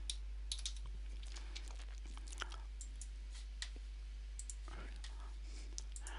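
Typing on a computer keyboard while entering data in aviation navigation software, sparse light clicks and short key bursts spread across the stretch, faint and close over a low steady hum.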